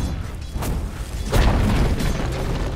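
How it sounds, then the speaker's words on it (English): A tower collapsing in the video game Dota 2, a deep booming crash with rumbling debris over ongoing game noise, no speech. "Dire's middle tower has fallen"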